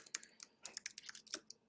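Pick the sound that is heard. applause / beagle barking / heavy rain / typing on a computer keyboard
typing on a computer keyboard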